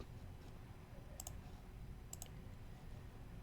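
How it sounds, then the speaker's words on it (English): Two faint, quick computer mouse clicks as a browser tab is opened, set apart by about a second against a low, steady background hum and no speech. "I am now going to click open tab"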